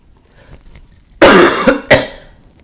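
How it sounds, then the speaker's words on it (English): A close, harsh cough followed by two more quick coughs, loud and raspy, with only faint background noise before them. "They just want me to cough even more."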